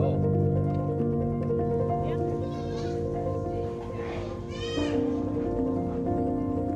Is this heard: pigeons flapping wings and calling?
no